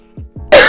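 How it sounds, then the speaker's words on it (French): Two short throat-clearing coughs come close and loud, then break into a harsher, noisier cough burst at the end, all within under a second. "C'est pas la période pour tousser,"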